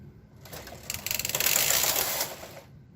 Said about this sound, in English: you keep moving your lace carriage until all the needles go backwards